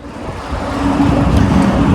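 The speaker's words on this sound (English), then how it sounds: "We are about 2 hours into the bus ride." Inside a long-distance bus on the road from Cairo to Siwa Oasis, a steady loud engine drone and road rumble swell slightly and hold constant, with no voices.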